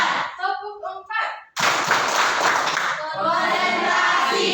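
Schoolchildren in a classroom clap together in a counted clap routine, a dense burst of many hands ringing out loudly after a short stretch of voices, then trailing into chanting and talk.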